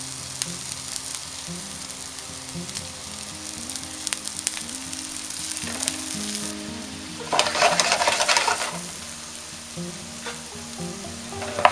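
Italian sausage meat, skin removed, frying in a pan for gnocchi with porcini mushrooms: a steady close sizzle and crackle with stirring, rising to a louder burst of hissing partway through, no talking.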